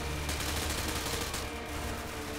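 Sustained, dense gunfire from Call of Duty: Modern Warfare 2 fills the moment, a loud continuous barrage of rapid shots with no pause.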